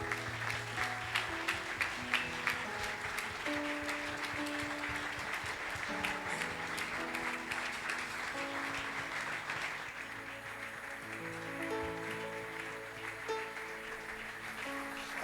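Church congregation clapping and cheering in praise, a steady dense wash of applause over sustained music throughout, close and loud with no single voice standing out.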